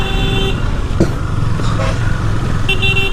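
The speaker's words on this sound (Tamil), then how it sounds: "ப்ரோ ஹார்ன் அடிக்கிறேன்." A vehicle horn toots twice, short bursts at the start and again near the end, over the steady drone of a motorbike on a road trip in Kolli Hills.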